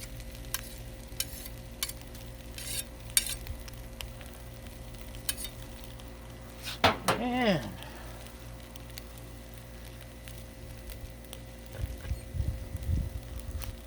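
A spoon stirs and scrapes jambalaya on a Blackstone griddle, with a steady low sizzle underneath and a brief louder scraping burst partway through, then faint clatter near the end.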